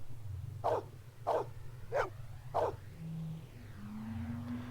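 A dog in Westwood's Blade Runner video game gives four evenly spaced barks, quiet and slightly distant, over a low droning hum with a faint rising synth tone near the end.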